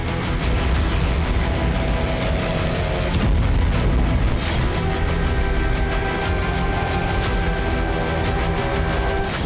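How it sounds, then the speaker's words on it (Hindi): Loud explosion from a Ukrainian drone attack in Tatarstan, heard as a continuous heavy rumble with deep booming bursts and crackling that fills the whole stretch, harsh and close. "अब तातारिस्तान में यूक्रेन ड्रोन हमले से जोरदार धमाका हुआ।"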